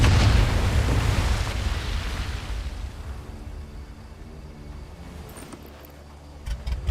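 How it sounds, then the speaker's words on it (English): A loud explosion in a World War II-style video game, opening with a heavy roaring blast that rumbles and slowly decays over several seconds, followed by a few faint thumps. "That explosion got the attention of all the German patrols in the area."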